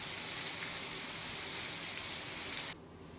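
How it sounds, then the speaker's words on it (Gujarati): Heavy rain falls with strong wind in Lathi, making a dense, steady, roaring hiss that stays constant throughout and then drops abruptly to a softer wash near the end. "લાઠીમાં ભારે પવન સાથે ધોધમાર વરસાદ વરસ્યો"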